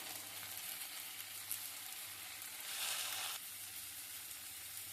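Tender tamarind leaves frying in a pan with onion and curry leaves, a steady close sizzle with a brief louder burst of crackling as they are stirred.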